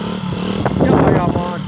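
A Skyteam Monkey motorcycle is kick-started and its small engine catches, a short burst of sputtering that grows into a running putter up close, with a voice talking over it.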